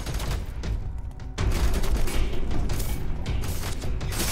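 Sustained automatic gunfire rattles through a firefight in the video game F.3.A.R., a quieter patch giving way at about 1.4 seconds to dense, continuous shooting and booming impacts that hold loud to the end.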